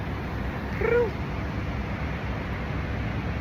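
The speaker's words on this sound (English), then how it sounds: "Look at that kitty." A single short cat meow rises briefly over a steady outdoor background hum, then the air falls back to low ambient noise.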